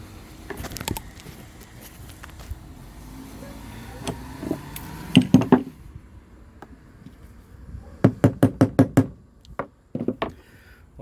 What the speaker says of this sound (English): This socket is the same size as the seal, and I'm going to put it on top and gently tap it.